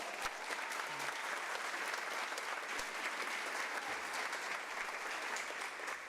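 An audience at a school ceremony claps steadily in an even, continuous wash of applause that holds throughout. A few low thumps cut through it.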